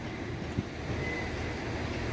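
A two-coach passenger train runs into Shrewsbury station with a steady low rumble and a brief thump, heard from the platform.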